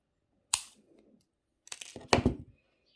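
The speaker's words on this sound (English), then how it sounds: "I'm going to cut that wire shortish" Wire cutters snip jewelry wire during wire-wrap pendant making, one sharp close click and then a few quick crisp snips with small metallic rattles, on a quiet background.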